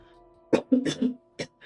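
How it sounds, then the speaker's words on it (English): Several harsh coughs close to the listener in quick succession, with a pause before a final cough and a short trailing sound. "Sorry, you guys had to hear me cough like that."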